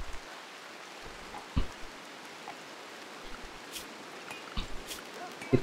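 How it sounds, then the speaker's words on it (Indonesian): Rain in the video game Rimworld: a soft, steady wash of rainfall hiss with scattered faint patters and a few low thumps, quiet and continuous throughout. "Di luar hujan ya, 7 derajat."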